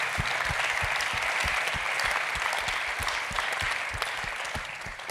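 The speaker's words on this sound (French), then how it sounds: "Et je vous demande tous de l'applaudir" Applause from an audience at an opening-night round table at a Paris film forum, steady dense clapping filling the room for several seconds, fairly close, with no voices over it.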